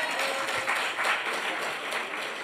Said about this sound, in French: Vous pouvez l'applaudir, votre chef.